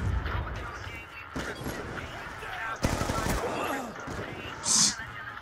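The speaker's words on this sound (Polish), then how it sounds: "co to było? Shotgun. Jeden strzał i po mnie." Shotgun fire in Black Ops 2: sharp, loud blasts punctuate the game's background clatter, with a heavy hit near the middle and scattered shots around it, while players talk over the action.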